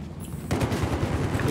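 A light machine gun lays down sustained suppressing fire in Battlefield 4, a rapid steady stream of loud shots that starts abruptly and keeps going, with a heavy boom at the end.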